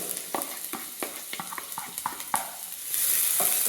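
Finely chopped medium onion sautéing in hot butter in a pan, a steady sizzle punctuated by repeated scraping stirs of a utensil, with the frying hiss swelling louder near the end; no one speaks.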